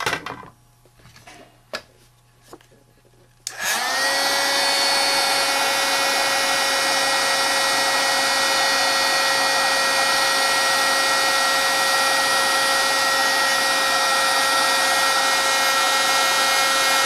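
A heat tool starts up and blows steadily on stamped ink background paper, a loud continuous whirring hiss that holds at an even level after a few quiet handling sounds.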